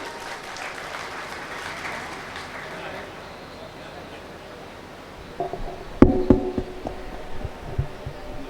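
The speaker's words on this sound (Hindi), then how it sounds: "आप भी तालियां बजा करके ये बताइए कि आप तारिक अनवर को सुनना चाहते हैं" Audience claps at an Indian mushaira in Siwan, a burst of applause building after quieter crowd murmur, with a sharp knock partway through.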